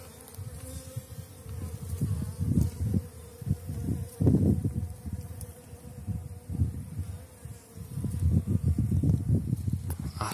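Honeybees swarm in front of their hive during young bees' orientation flights in a period of intense brood rearing, making dense, continuous buzzing that swells and fades as bees pass close to the microphone.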